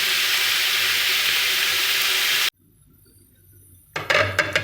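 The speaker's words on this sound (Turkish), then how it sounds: "Kendi suyunu çekene kadar bunu böyle kavuracağım." Beef sautés in its own juice in a pot with a loud, steady sizzling hiss. The hiss cuts off abruptly into near silence, and then a busier clatter of sizzling returns near the end.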